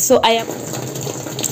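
Water flowing through a connected pipe into a 9 kg Mika twin tub washing machine, a steady hissing rush heard close, briefly under a single spoken word at the start.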